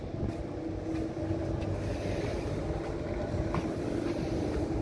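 On board a cargo ship at sea in the Bangka Strait, heading from Batam to Jakarta, a steady low engine and hull drone mixes with wind and water rush, constant and fairly loud, no talking.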